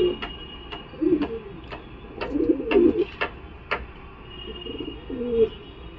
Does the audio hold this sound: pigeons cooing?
yes